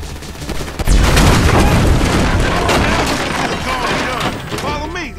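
Rapid gunfire and booming blasts fill a GTA 5 shootout, loud and continuous near the player, with shouted game voices mixed in.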